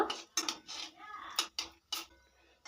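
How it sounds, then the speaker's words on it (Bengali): Cardamom pods and cinnamon pieces are stirred in hot oil in a pan, giving sharp metallic clinks of a spoon against the pan in an irregular series of close knocks over a faint sizzle, with no talk. "গরম মশলাগুলো আমি একটু নাড়াচাড়া করে নেব"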